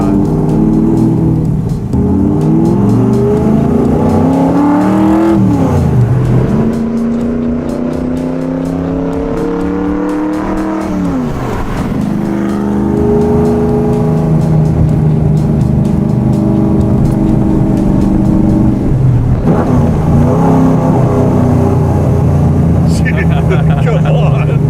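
A 1967 Ford FIA Fastback Mustang engine revs up and down repeatedly, loud and close, the pitch climbing and dropping with each throttle blip over a steady idle rumble.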